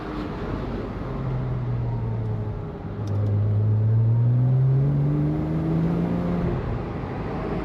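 Open-top car with the roof off driving along a road in Austria, a steady engine drone with rising tonal whine as it accelerates and shifts, plus constant wind and road rush, close and loud throughout with no talking.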